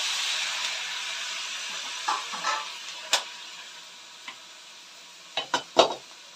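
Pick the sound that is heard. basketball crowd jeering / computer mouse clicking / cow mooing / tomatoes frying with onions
tomatoes frying with onions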